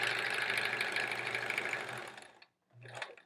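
A sewing machine stitches a quilt seam in a steady, close whirring run of about two and a half seconds, stops briefly, then gives a second short burst.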